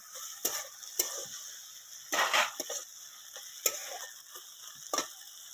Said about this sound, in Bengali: আদা বাটাটা আর এই টমেটো কুচিটা দিয়ে দিলাম দিয়ে একটু কষাতে থাকবো